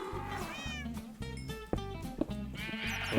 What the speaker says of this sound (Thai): แกะ